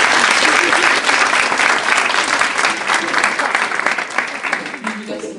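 Sustained applause from an audience at a French university exhibition discussion event, loud and dense clapping throughout, gradually thinning slightly toward the end.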